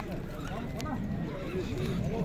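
A horse at the Bishkek horse market snorts or whinnies faintly amid a murmur of nearby voices and general market bustle, with possible hoof shuffling.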